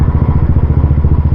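A motorcycle engine thumps loudly and close up at a fast, regular pulse while being ridden, with a rough, throbbing low rumble and no talking.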